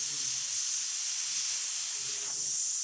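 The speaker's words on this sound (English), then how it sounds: "let's test the steamer too" The steam wand of a serviced La Pavoni Europiccola espresso machine lets out a steady, close, bright hiss for the whole stretch, with faint low sounds underneath.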